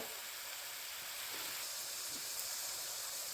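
Spices sautéing in hot oil for a cherry tomato dish make a soft, steady sizzle and hiss that runs evenly throughout, with no voices.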